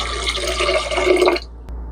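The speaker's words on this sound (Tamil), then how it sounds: "இன்னும் 4 கப்பு ஊற்றிக்கிறேன்." A cup of water is poured into a pot while making aval payasam, a short gurgling splash lasting just over a second before stopping abruptly, close and fairly loud.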